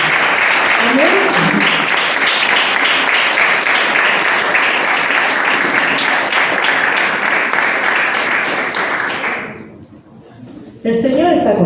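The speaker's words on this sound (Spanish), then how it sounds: "Así que aplaudirle fuerte al Señor, porque Él está contigo." A church congregation applauds the Lord in loud, sustained clapping that fades out, followed by a short lull and then a brief return of sound.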